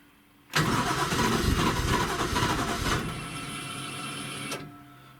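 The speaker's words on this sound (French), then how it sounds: "on dirait qu'elle a du mal à démarrer." A Toyota 1JZ engine cranks hard on the starter for several seconds, grinding loudly and unevenly close by as it struggles to catch, then the cranking fades and cuts off.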